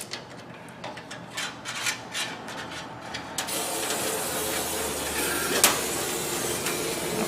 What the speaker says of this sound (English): can you guys see how that thing sprays?